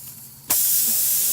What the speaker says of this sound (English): Now we know we got a major air leak